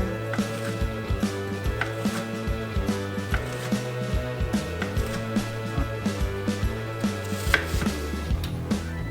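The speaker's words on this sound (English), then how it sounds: "We're starting off with cubing our breakfast ham, starting off this way and then give them a half turn, come down again." A knife cubes breakfast ham on a cutting board in quick, evenly paced strikes, each a crisp, close thud against the board, repeating steadily throughout with no voices.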